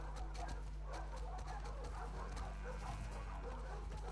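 In The Last of Us Part 2, a dog gives a series of soft, fairly distant barks and whimpers over a low, steady background hum, with no one talking.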